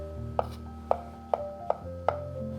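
Squid, gutted beforehand, is chopped into roughly 1.5 cm pieces with a knife on a cutting board: five crisp, close knocks at a steady, unhurried pace, with no talk.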